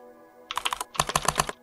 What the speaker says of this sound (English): Then we'll allow to execute it by typing this command.